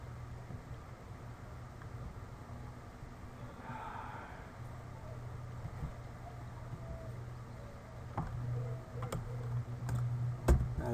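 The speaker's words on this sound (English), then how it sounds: "I'll hit E on my keyboard" Keys on a computer keyboard are tapped in quiet, sparse clicks over a low steady hum, becoming denser with a few sharper strikes toward the end.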